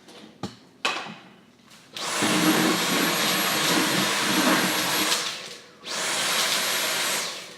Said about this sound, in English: that does all my drilling